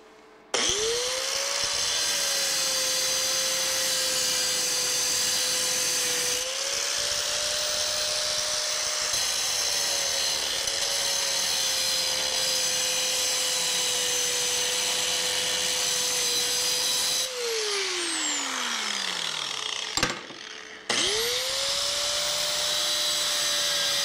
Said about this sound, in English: But I got a little cut-off wheel here, thin wheel, so I can just kind of go in there and expose the crack some more